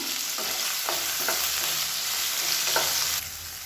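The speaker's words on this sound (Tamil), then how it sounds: "இதையும் சேர்த்து நல்லா எண்ணெயில் வதக்கி விட்டுக்கலாம்." Chopped pirandai, or adamant creeper, sizzles in hot oil for a kulambu, the steady frying hiss broken by several scraping strokes of a spatula stirring the pan, close and without talk.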